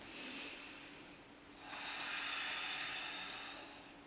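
Steady ocean-like breathing during a yoga practice: slow, audible throat-constricted inhales and exhales with a soft hiss, close and fairly quiet, with no talking.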